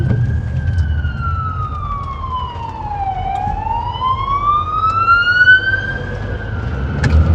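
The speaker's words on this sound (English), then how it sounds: "So I'm going to pull over and let this fire engine go past me." A fire engine's wailing siren sweeps down and back up in pitch as the truck passes a car pulled over on the road, loud and close over steady engine and road rumble.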